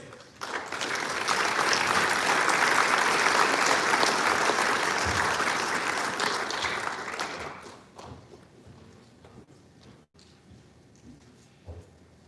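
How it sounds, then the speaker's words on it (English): Loud, sustained applause from a large audience at a football banquet fills the space for about eight seconds before tapering off into quieter room noise. "We're going to give you young men a round of applause"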